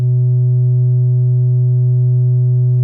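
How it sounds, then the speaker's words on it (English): A filtered triangle wave from a Mutable Instruments Tides module, fed into an AJH Synth Ring SM ring modulator, holds a steady, loud, pure tone with soft upper harmonics for about three seconds, unchanging and alone. "It's a filtered triangle from Mutable Instrument Tides."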